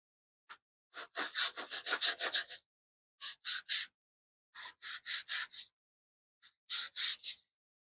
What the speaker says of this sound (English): always more sanding, always more sanding. There's always more sanding.